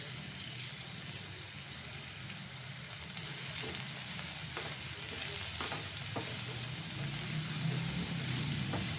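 Cabbage with curry leaves sizzles in a pan as it is stirred, a continuous crackling fry broken by repeated scraping strokes of the spoon, with faint speech nearby.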